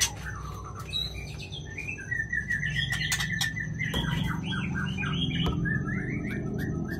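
White-rumped shamas (Murai Aceh) chirp and call repeatedly, with quick tweeting phrases and squawks over a low background hum, moderately near and continuous throughout.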